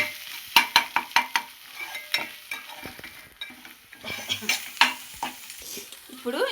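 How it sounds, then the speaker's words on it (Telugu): Egg fried rice being stirred in a hot pan over low heat, with repeated scraping strokes of a utensil against the pan over a faint, steady sizzle. "సిమ్లో పెట్టుకొని నెమ్మది కలుపుకొని"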